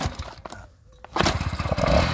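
A Peugeot 103 moped with a 15 mm carburettor is kick-started, a few scraping kicks and sputters giving way after about a second to a loud, close two-stroke engine catching and running with a rapid popping rhythm.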